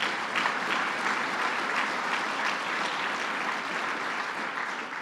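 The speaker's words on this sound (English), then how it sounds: "Let's give them a round of applause." An audience at a governor's announcement event claps in a sustained, even round of applause, dense and fairly loud, with no voices over it.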